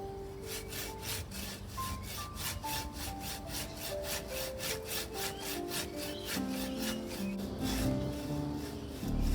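A branch saw cuts through the stump of a large Port Jackson fig bonsai with steady, rhythmic rasping strokes, close and loud, running continuously and growing slightly heavier toward the end.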